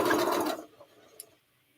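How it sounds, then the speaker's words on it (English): Sewing machine running briefly while stitching nested seams on a sweetheart quilt block, a loud dense burst for about half a second that stops abruptly, followed by a faint click and near quiet. "realign and finish sewing."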